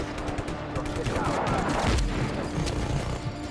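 Heavy mounted gun in Just Cause 3 unloads in a sustained, loud burst of rapid gunfire, with booming impacts and crashes layered in, dense and continuous throughout.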